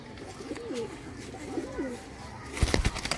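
A Sialkoti high flyer pigeon gives two soft, rolling coos nearby, followed by a short burst of rustling and fluttering close to the microphone.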